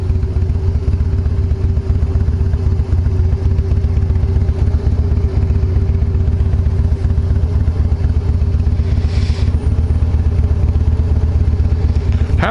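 Motorcycle engine running steadily and loudly at close range throughout, with a constant low rumble and some mechanical clatter, with no speech.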